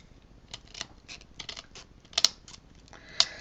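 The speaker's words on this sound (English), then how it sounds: "So I cut them in half with my scissors" Scissors snipping small metal pieces in half for craft decoration, a series of sharp, close clicks and metallic snaps at irregular intervals, with two brighter snaps standing out.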